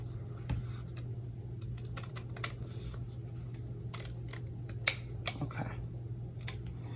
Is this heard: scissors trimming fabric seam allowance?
yes